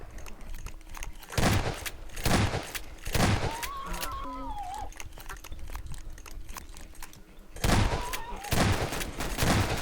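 Gunfire from the Garry's Mod video game comes in short, loud bursts of rapid shots, separated by quieter stretches with a wavering tonal whine; no one speaks.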